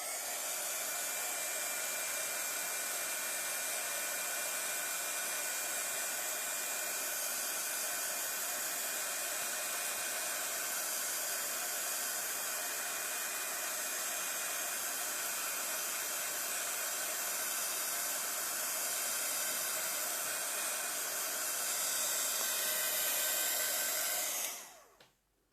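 A hair dryer blows steadily on wet gesso, a loud even hiss and whir held without a break for about 24 seconds, then shutting off abruptly at the end.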